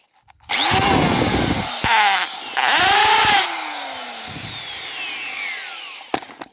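A rotary hammer drill whirs up in short bursts, revving and winding down between pulls, loud and close with brief pauses.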